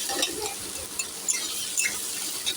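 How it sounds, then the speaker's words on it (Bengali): Onions fry in a pan while chicken keema cutlets are being prepared, with a close, even sizzle and light crackle plus a few soft stirring scrapes. "পেঁয়াজটা একটু ভাজা ভাজা হোক"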